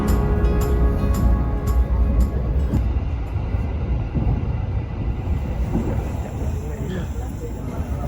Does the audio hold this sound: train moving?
yes